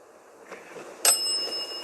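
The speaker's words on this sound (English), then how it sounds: "Can you set the bell off for yes?" A small bell rings once at a campsite at night, a clear bright strike that rings on for under a second, heard alone after soft rustling.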